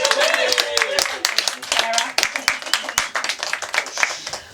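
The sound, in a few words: audience applause at a book launch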